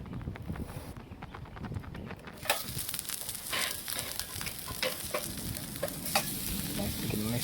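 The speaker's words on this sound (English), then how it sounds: "Sear pork chop here." An oiled pork chop sears on a hot grill, a steady crackling sizzle that jumps louder partway through and holds dense and close.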